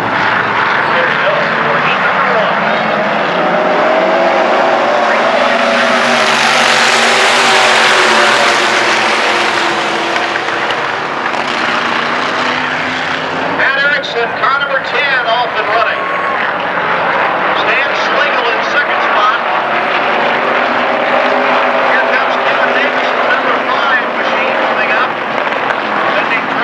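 Loud, continuous roar of V8 race cars running gas or alcohol with $375 claimer engines at Adams County Speedway in Corning, Iowa, in 1994, surging as the pack passes, with a voice talking over the engines.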